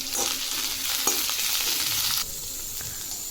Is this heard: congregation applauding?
no